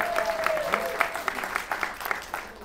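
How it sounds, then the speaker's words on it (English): Scattered audience clapping for a volunteer assistant at a motivational talk, with distinct individual claps at a fairly steady rhythm and a faint voice briefly in the background. "Can we have a round of applause for being brave?"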